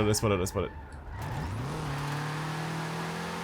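A 160-horsepower BMW drifting in Forza Horizon 4 sends a steady engine drone that holds a sustained pitch after a brief burst of voice and rev at the start, continuing alone and close.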